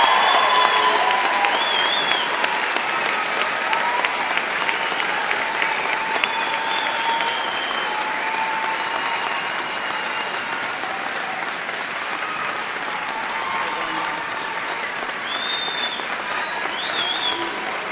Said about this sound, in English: I invite those in the audience to join me in applauding your success